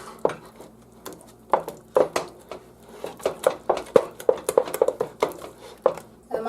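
A spoon stirs mashed potatoes made from potato flakes with garlic salt in a pot or bowl, giving a close series of irregular scraping clinks and soft squishy knocks, with no talking.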